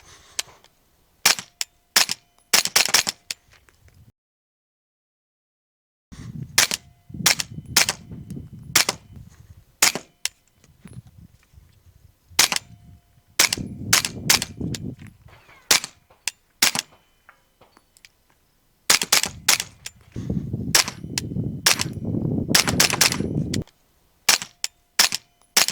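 Repeated suppressed gunshots from a CZ Scorpion fitted with an Exigent Defense Rico309 suppressor, loud sharp cracks fired singly and in quick strings, with pauses between groups.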